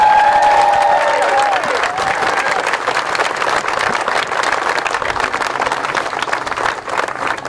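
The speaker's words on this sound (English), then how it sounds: "Can we give Gina another round of applause, please?" A crowd at a West Beach playground ceremony gives loud, close applause that opens with a brief high whistle or cheer, then settles into even, sustained clapping that slowly thins.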